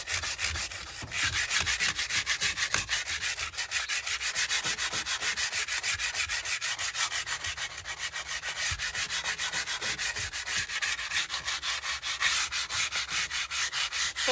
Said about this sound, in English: I got to go get some sandpaper. Okay, y'all, I'm just gonna sand this right here.